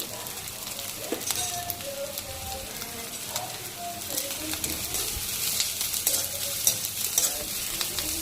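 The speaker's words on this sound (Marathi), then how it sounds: "आपला कांदा थोडा लाल झालेला आहे" Chopped onion frying in a pan for a village-style vegetable dish, a steady close sizzle with scraping spoon strokes as it is stirred, and faint voices in the background.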